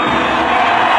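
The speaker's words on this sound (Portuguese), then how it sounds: "Vamos subir, sim, o som da torcida brasileira." Brazilian fans cheer as a dense, continuous roar of crowd noise at the Olympic opening ceremony, loud and sustained through the whole moment.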